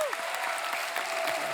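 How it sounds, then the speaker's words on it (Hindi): A studio audience at a Hindi comedy talk show claps loudly for the cast in a brief, dense burst of applause with no speech over it. "खैर पूरी कास्ट के लिए एक बार जोरदार ताली,"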